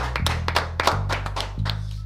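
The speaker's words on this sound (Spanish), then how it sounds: "Recibimos con un fuerte aplauso a Alfredo Serrano Mancilla." A handful of people clap in quick, uneven rhythm, close and fairly loud, over a steady low hum.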